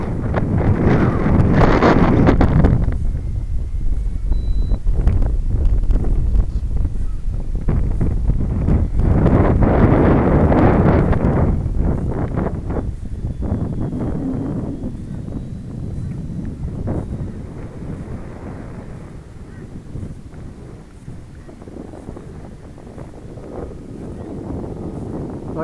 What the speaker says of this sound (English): fighting that wind